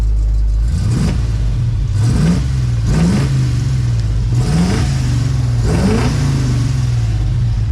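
A Pontiac Firebird engine missing plug wires runs rough and loud close up, with repeated uneven revs rising and falling over a lumpy idle.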